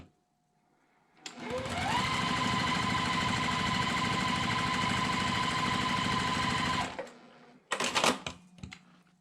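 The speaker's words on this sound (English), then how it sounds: "So I'm just going to sew these together." A sewing machine runs fast and steadily for several seconds, stitching quilt block fabric pieces together, then stops. A few short bursts of stitching and clatter follow, close and loud with no voices.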